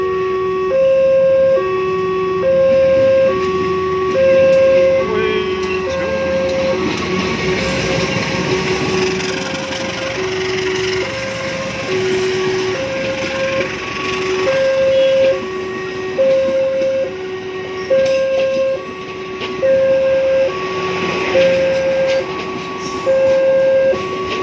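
Long 15-car passenger train hauled by two locomotives in double traction rolling past at Kricak near Bangil, a loud continuous rumble of wheels with a repeating two-tone horn-like pattern throughout.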